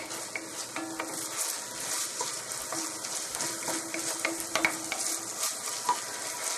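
Onions and garlic sauté in a pan with a continuous bright sizzle, while a utensil stirs and scrapes through them in repeated close, uneven strokes.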